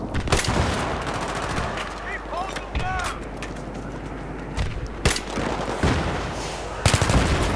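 M16 rifle gunfire in Battlefield 3, several sharp bursts and single shots scattered over a busy battlefield bed, with talk over the top.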